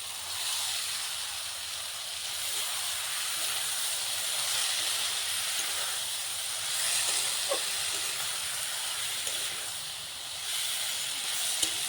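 Fish dropped into hot oil with ginger, garlic and spices for a fish curry, giving a steady, loud, broadband sizzle and hiss that lasts the whole clip.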